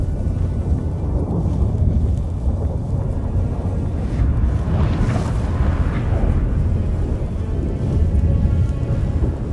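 Thunderstorm in The Witcher 3: a deep, continuous rumble of thunder and wind roaring steadily throughout, swelling to a louder crack near the middle, with no speech.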